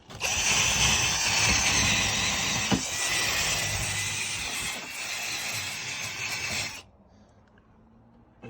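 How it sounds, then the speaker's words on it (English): A power drill whirs loudly and steadily for several seconds, its spinning brush scrubbing grime from a car door pocket with a harsh buzz, then stops abruptly leaving quiet. "I also use this drill brush for getting all the thick rub and grime"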